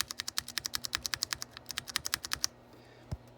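Rapid, crisp clacking of someone typing on non-lubed tactile brown mechanical keyboard switches, a steady run of close, sharp keystrokes that stops abruptly, followed by a single soft thump.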